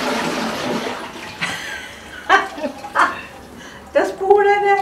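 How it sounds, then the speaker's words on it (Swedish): A toilet flushing in a bathroom, a hissing rush of water at the start fading out, followed by several short bursts of voices talking. "Där spolade jag."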